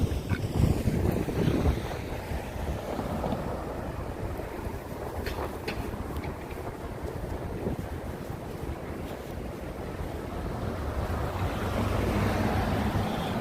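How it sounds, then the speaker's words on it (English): Gusty wind buffeting a microphone outdoors in Central Park on a cold evening, a steady roar of wind noise with louder bursts at the start and near the end, no voices. "It's kind of windy."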